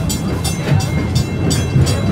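Rhythmic clatter of a theme park train rolling along the track, with regular clicks repeating under a steady low rumble, as it comes to a stop.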